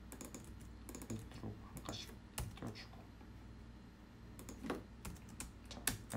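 Fast clicky typing on a computer keyboard during a Python coding session, a run of near, crisp keystrokes with a few heavier presses like the enter key, alone without talk.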